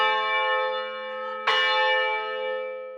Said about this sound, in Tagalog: Pero kapag umalingaw-ngaw na ang mga kampana mula sa kampanaryo nito, tsak, mapapalingon ang lahat.